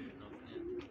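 Pigeons settling during a pigeon-flying session, a faint, low, sustained coo lasting under a second against soft background noise.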